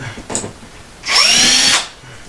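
A battery-powered DeWalt drill whirs loudly for about half a second burst, a close, steady high-pitched motor whine with no talking, set among faint workshop clatter while screws are being removed.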